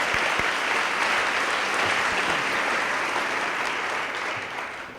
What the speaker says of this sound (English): How about one more round of applause for Owen?